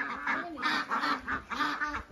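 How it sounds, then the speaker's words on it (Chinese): Ducks that have wandered into a rural home yard quack in a quick series of loud, nasal calls, about six close bursts in a rough rhythm. "这谁家的鸭子呀？"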